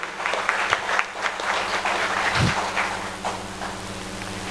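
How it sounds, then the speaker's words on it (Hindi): An audience at a company's first anniversary celebration claps to welcome a committee, with fairly near, uneven applause under a low steady hum and a few sharper individual claps. "मैं चाहूँगा इस कमेटी के लिए भी आप लोग जोरदार तालियों के साथ इस कमेटी का स्वागत करें"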